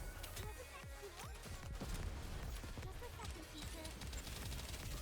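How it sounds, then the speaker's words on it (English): Explosions and gunfire from a battle in the video game Nikke, with dense overlapping blasts and shots that run loud and steady, under bursts of game voice lines. "oh, it does explosion"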